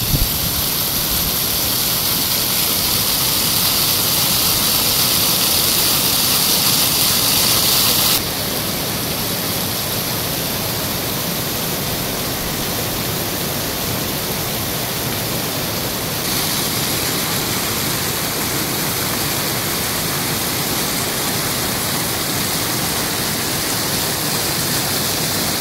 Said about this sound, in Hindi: तो ये झरना जो है इस मार्ग पर एक आकर्षण का केंद्र है।